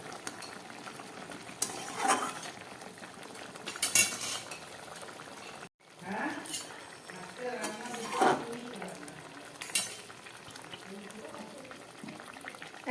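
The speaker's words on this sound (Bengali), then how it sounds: "এবার গ্যাসটাকে কম করে এটাকে আমি ছ সাত মিনিটের মতো রান্না করবো" Fish and kohlrabi curry simmers in a pan with a steady bubbling sizzle, broken by occasional utensil scrapes and stirring clinks, while someone speaks throughout.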